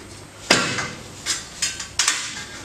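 Tack welds snap off a steel part in a few sharp, close metallic cracks and clanks spaced over a couple of seconds, each ringing briefly, with no talking.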